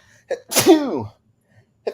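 A single loud, close sneeze with a quick breathy intake just before it, in an otherwise quiet garage.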